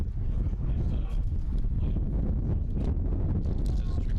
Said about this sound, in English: in a very windy Donovan Stadium